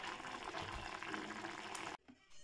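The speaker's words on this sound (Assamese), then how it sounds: "এয়া বইল কৰিছোঁ আৰু 10 মিনিটমান এনেকৈ বইল কৰি ল'ম" Ingredients for butter chicken boil in a pot, giving a steady close bubbling hiss that cuts off abruptly near the end, leaving a faint rustle.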